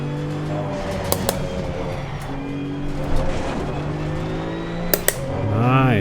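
A Porsche 911 GT2 race car engine in the Assetto Corsa Competizione game hums at a steady pitch, then revs up toward the end, with a few sharp clicks along the way.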